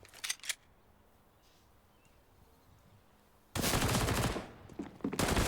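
Counter-Strike match gunfire: a short crackle of shots early, a quiet stretch of ambient hum, then a sudden loud sustained burst of rapid automatic fire and overlapping shots filling the last two seconds.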